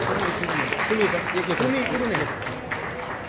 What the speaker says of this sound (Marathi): तर जोरदार टाळ्या नको का त्यांच्याकरता